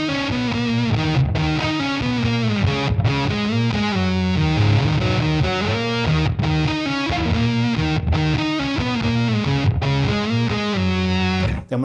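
Electric guitar through a Big Muff fuzz with an octaver placed after the drive, run through a Sonicake Matribox II Pro with amp, cab, reverb and gate, playing a thick sustained riff broken by a few brief stops.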